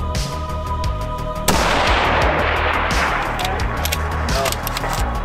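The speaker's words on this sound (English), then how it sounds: "Oh wait, it's two shots?" A loud rifle shot from a gas gun cracks out at a PRS turkey shoot match, its booming echo rolling on over fainter distant reports and background outdoor noise.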